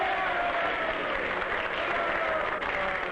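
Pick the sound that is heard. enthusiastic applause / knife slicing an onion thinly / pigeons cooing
enthusiastic applause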